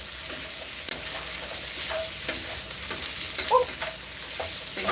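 Broccoli fries in a pot under a steady sizzle, with the scrape and clatter of a spoon stirring it through, close up and with no voices.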